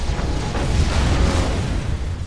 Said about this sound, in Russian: Звуки меня пугают, такие взрывы сильные.